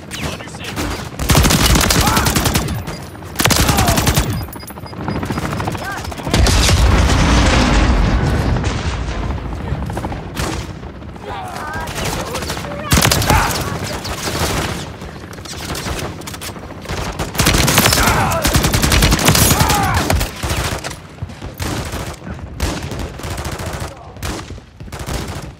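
Sustained, loud automatic gunfire and heavy bursts fill a Call of Duty: Modern Warfare 3 battle in Zambia, with dense rattling volleys, booming impacts and brief lulls, while voices shout over the combat.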